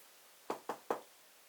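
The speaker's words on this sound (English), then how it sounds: "a knock sounded at the door." Three quick knocks rap on a door in an even rhythm, close and fairly loud against a quiet room, with no voices.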